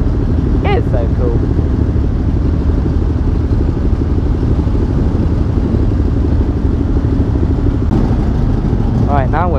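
Many motorcycles at the Isle of Man TT in a steady, loud, dense engine rumble of idling and riding bikes close by, with a voice talking over it.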